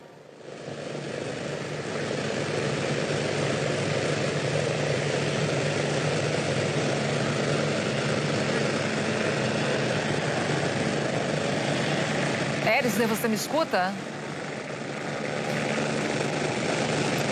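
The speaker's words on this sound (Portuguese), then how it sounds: "você vê que há um barulho de helicóptero" A helicopter flies overhead near a plane crash rescue site in Minas Gerais, its loud, steady rotor and engine drone filling the whole clip, with a voice heard briefly near the end.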